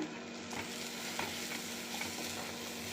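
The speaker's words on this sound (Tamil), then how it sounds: "இப்படி வதக்கிக்கிட்டே இருக்கணும்" Ivy gourd sautéed with turmeric and chili powder in a pan gives a continuous close sizzle, with soft scraping stirs every half second or so and no talking.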